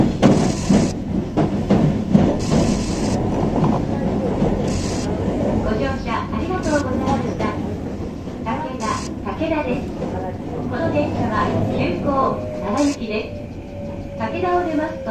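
Kintetsu 20 series express train with a Mitsubishi hybrid SiC-VVVF inverter running between stations, steady rumble of wheels and traction motor with a rising inverter tone near the end, under onboard announcements and passenger talk.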